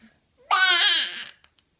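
A young child imitates a goat with one short, bleating vocal burst of under a second, close and clear, followed by quiet.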